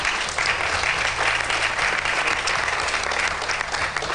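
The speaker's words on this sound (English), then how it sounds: "I would really like you to give a big round of applause to this master of sound" Steady, dense applause from a crowd at a press conference for a new film, loud and continuous from start to finish with no pauses.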